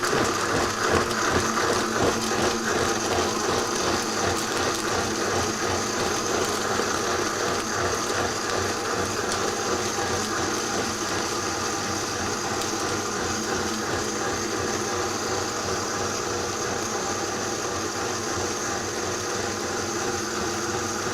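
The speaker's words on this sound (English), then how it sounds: "Yeah, my blender's on." A kitchen blender runs steadily at full power, its dense motor whir and rattling blade churn holding an even, loud drone without a break and with no talk over it.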